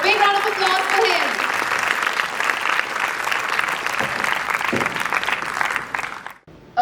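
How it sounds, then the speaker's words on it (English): Applause from the audience at the BNMIT X LIW Symposium 2024 as speaker Vignesh Kumar is welcomed, a dense, steady wash of clapping filling the hall before it cuts off abruptly at the end. "A big round of applause for him"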